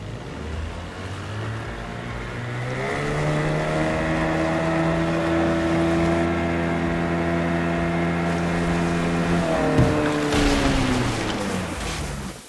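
A small rowing boat gliding across the sea in Assassin's Creed Odyssey, with a steady wash of water and a low droning hum that swells and holds for several seconds before tailing off, no voices.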